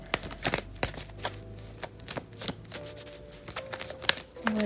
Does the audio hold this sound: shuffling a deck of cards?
yes